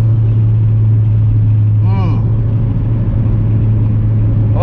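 A second-generation W20 Toyota MR2 hums along with a steady low engine drone during a drive, a brief rise in revs near the middle, and someone talks over it.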